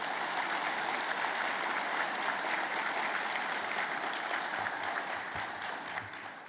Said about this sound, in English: please give a round of applause to the veterans who have served our country